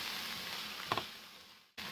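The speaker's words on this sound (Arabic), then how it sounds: "نحمس الفطور كل زين" Mushrooms frying in a pan for an Iraqi-style fettuccine Alfredo give a steady, moderately quiet sizzle, with a brief clatter of stirring partway through and a sudden short break near the end before the hiss resumes.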